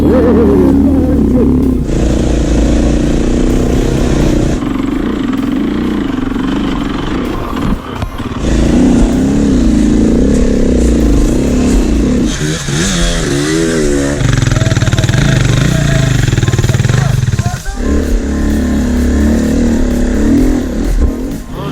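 An enduro off-road motorcycle engine revs loudly and close, rising and falling in pitch through repeated throttle bursts, with a voice briefly audible over the roar.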